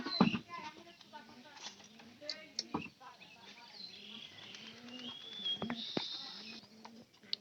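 Pigeons coo repeatedly from a cage kept in a pigeon house, low rounded calls recurring through the stretch alongside occasional chirps, with people talking nearby.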